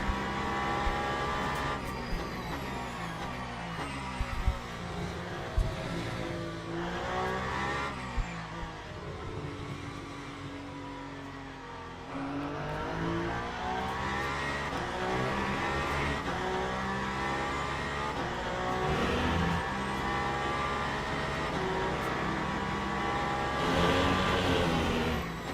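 Aston Martin race car in the sim racing game Le Mans Ultimate, its engine revving and shifting continuously through corners and straights at steady loudness, with no talk over it.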